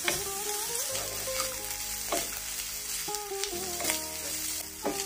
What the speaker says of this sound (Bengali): এখন গোশের সাথে আবার একটু ভেজে নিচ্ছি।